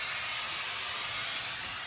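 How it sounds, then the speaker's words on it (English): A steam cleaner blasts inside a semi truck cab, giving a loud, continuous broadband hiss that stays steady and close throughout. "We have another crew out here steaming the seats."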